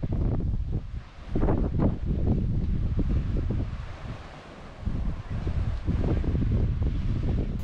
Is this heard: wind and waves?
yes